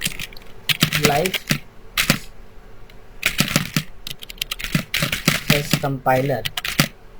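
Computer keyboard typing during a Sass coding lesson: bursts of quick, close clicking keystrokes in clusters, interleaved with someone speaking.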